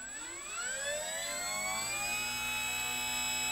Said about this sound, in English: Now watch the rotation of the propeller.